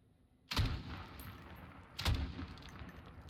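Two sharp gunshots from Call of Duty Modern Warfare, fired at a keypad to enter a code, crack out about a second and a half apart at moderate loudness, each with a short echoing tail over quiet game ambience.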